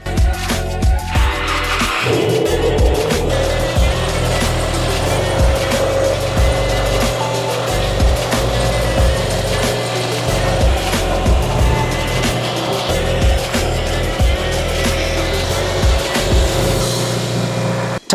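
A Subaru engine runs after starting while warming up during a radiator hose and coolant job, a steady loud mechanical hum with low rumbling pulses and occasional revving swells throughout.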